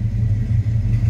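A 1985 Chevrolet K10 Silverado pickup truck idles just after starting, a steady low rumbling engine drone with a slight pulsing, close and loud throughout.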